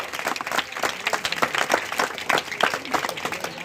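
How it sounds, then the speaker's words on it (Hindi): A crowd at an Ambedkar Jayanti gathering claps steadily and enthusiastically, a dense continuous patter of many hands throughout. "तालियां बजाइए, ताली स्वागत करिए आप लोग।"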